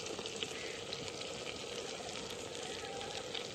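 Masala spices, turmeric and garam masala frying with tomato in a pan: a steady, close sizzling hiss with light bubbling and occasional stirring scrapes, with nobody speaking.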